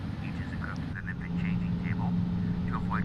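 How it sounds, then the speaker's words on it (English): Jet engines of an FSLabs A321 airliner in a flight simulator build up a steady low hum and rumble as power rises to taxi, joined partway by a stronger drone, while faint chirpy voices sound in the background. "Guess we need a bit of power to move this heavy aircraft."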